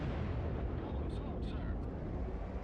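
Heavy naval gunfire from the USS Iowa battleship in World of Warships, a dense sustained roar of booming blasts filling the whole short stretch.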